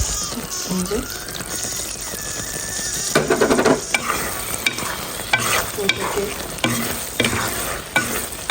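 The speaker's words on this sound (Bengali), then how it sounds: "আর এখন দিয়ে দিব পাঁচফোড়ন আর শুকনো মরিচ ভাজা" Five-spice and dried chillies fry into a jujube pickle in a pan, a constant crackling sizzle broken by scraping stirs and clinks of a spoon against the pot, with occasional soft voices in the background.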